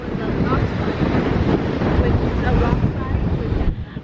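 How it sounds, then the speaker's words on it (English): Strong wind at a coastal blowhole on Oahu, Hawaii roars and buffets the microphone continuously, with a rushing noise that stays loud throughout. "I don't think the tide was high enough for the actual blowhole to shoot up water, but it is so incredibly windy."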